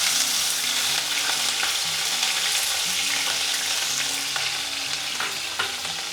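Green chillies sizzling in hot oil with mustard and cumin seeds, a loud, steady crackling fry close by, with scattered spoon scrapes and small pops.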